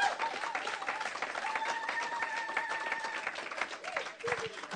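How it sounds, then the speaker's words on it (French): A church congregation at a seminar applauds and cheers for the Lord, a steady wash of clapping with voices calling out and a sustained tone above it, moderately distant and fairly quiet. "est-ce que tu peux acclamer pour le Seigneur?"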